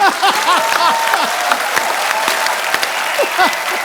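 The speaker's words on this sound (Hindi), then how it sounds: "जोरदार तालियां।" Studio audience applause on an Indian TV comedy talk show, loud and sustained, with clapping filling the whole clip under a few vocal whoops and musical tones.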